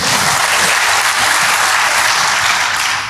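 A church congregation claps for God during a sermon, a loud, continuous burst of dense applause that fills the whole moment without letup.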